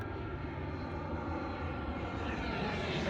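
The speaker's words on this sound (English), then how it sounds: "There comes another plane to land." Fixed-wing airplane coming in to land at Split Airport near Trogir, Croatia, heard as a steady engine drone that stays distant and continuous with no talk over it.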